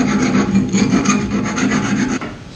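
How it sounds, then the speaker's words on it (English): Metal file rasping back and forth on a round steel bushing tube of a rear lower control arm for a Locost build, a steady, close, scratchy grinding in repeated strokes with no talking. "Get the files out here."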